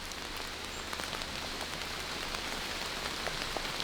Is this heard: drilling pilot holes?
no